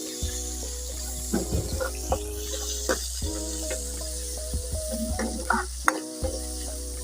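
Onion fries in hot oil in a pot over a low steady hum, a spoon scraping and stirring in bursts with soft clicks against the pot's sides.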